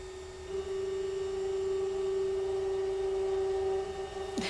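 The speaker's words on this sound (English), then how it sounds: "the Glowforge is protesting right now" A Glowforge laser cutter gives off a steady, loud tonal hum that runs unbroken for several seconds with a faint mechanical wash beneath it, then breaks into brief clatter right at the end.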